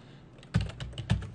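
A few keystrokes on a computer keyboard, three or four distinct clicks, close and crisp in an otherwise quiet room.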